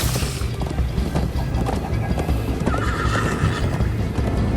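A galloping horse in the Minecraft Story Mode video game, continuous loud clip-clop hoofbeats with a whinny, dense and close under game music and effects.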